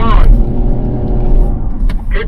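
A Land Rover Defender 130 accelerating off-road, its engine note loud and sustained close by, with a person talking over it.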